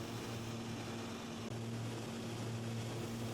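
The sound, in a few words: engine of a sightseeing plane flying around Mount McKinley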